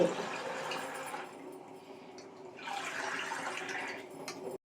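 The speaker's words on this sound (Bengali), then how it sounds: "না ওই জল দিচ্ছ কেন হ্যাঁ, আর কত জল দিচ্ছ" Water being poured at home, a continuous splashing rush that rises and dips over several seconds before stopping abruptly, fairly close and steady, with no talking over it.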